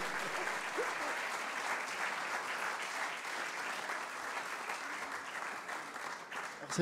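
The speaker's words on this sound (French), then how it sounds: "Applaudissons une dernière fois nos intervenants." Sustained applause from a conference audience for the panel speakers, dense even clapping lasting several seconds before tapering slightly at the end.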